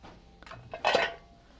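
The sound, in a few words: handling a copper-tone bundt pan at a thrift store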